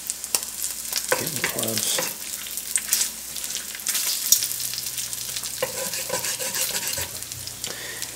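Bacon fries in a pan for a Southern-style breakfast burrito, a continuous close crackle and sizzle with stirring scrapes and clinks running throughout, and a brief spoken remark in the middle.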